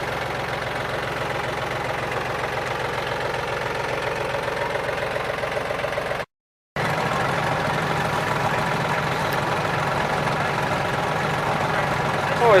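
A John Deere tractor with a canopy idles steadily, a close, even low rumble and rattle that runs throughout apart from one brief dropout.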